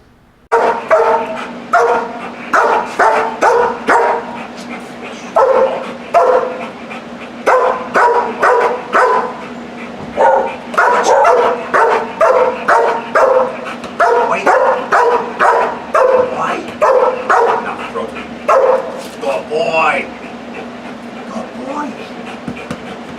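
A dog barks repeatedly in quick rhythmic bursts during a training session where a held ball is thrown as a reward. The barks are loud, close and nearly continuous, with a few brief pauses between runs.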